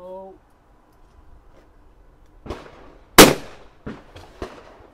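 Shotgun fired at clay pigeons during a first clay shooting lesson outdoors, with one loud sharp blast among several fainter shots and bangs spread over a few seconds, amid brief voices.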